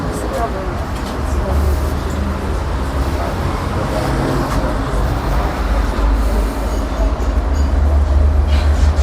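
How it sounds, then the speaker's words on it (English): Steady low rumble and rattling of an old Tatra tram in motion in Sofia, continuous and fairly loud, with wheel and track noise filling the whole stretch. "So I'm totally excited to ride the old tram."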